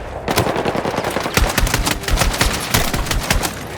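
Rapid machine gun fire from a mounted MG in the Battlefield 6 campaign, loud sustained bursts of rattling shots with sharp individual reports over a battlefield background, no speech.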